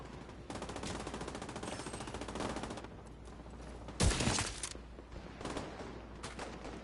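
Gunfire rattles through a firefight in The Division 2: rapid automatic bursts at moderate volume, then a sharper, louder burst with impacts and more shooting trailing after.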